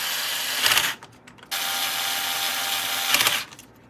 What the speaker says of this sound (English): I will go ahead and I will put the screws down and the washers for it though.